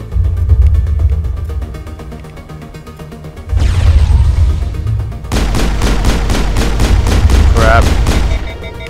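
Geth Armature heavy weapons firing in the video game Mass Effect 1: a loud booming blast followed by several seconds of rapid, hammering gunfire bursts, close and dominant.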